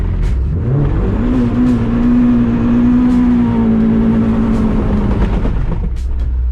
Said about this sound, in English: that was wheel hop and a half.